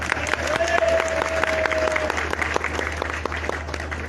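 Audience applause at an award ceremony where a trophy is presented, dense and steady clapping from a crowd filling the room, with a voice speaking over it partway through.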